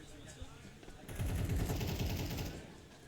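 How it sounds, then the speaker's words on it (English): Gunfire in Counter-Strike 2 during a competitive match, with a dense burst of rapid shots and booming low reports lasting over a second, loud against a background of game noise. "There's the swing from Rex. It's clean. It's a good headshot"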